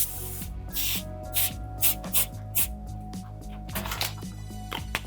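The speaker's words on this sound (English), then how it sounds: "Give your pan a spray so nothing sticks to it." Non-stick cooking spray hisses onto a cheesecake pan in a kitchen as a string of short, close spritzes, each a sharp airy burst with brief pauses between them.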